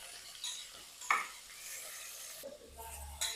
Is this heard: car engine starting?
no